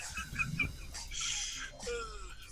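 A person imitates a dying rooster crowing, a short strained vocal crow with a falling, drawn-out tone amid chatter from other people talking.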